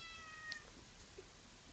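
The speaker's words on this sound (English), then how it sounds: "That's my cat, Seamus." A pet cat named Seamus meows faintly indoors, two short soft calls about half a second apart over a quiet background.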